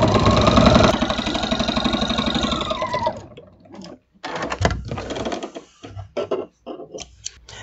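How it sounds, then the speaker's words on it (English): Sewing machine stitching through quilt fabric, a fast steady mechanical hum for about three seconds, then stopping and giving way to intermittent clicks and short bursts as the fabric is repositioned. "Now I'm going to come from the other direction and sew in the opposite."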